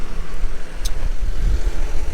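Loud, steady low rumble of a John Deere 6215R tractor engine driving, heard close with a brief high squeak partway through.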